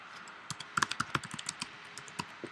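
Computer keyboard typing a command-line entry: a quick run of close, crisp key clicks in an uneven rhythm, with no talking.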